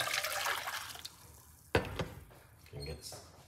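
Pineapple tea is poured back into a container, with uneven splashing pours and a few drips set against a quiet background.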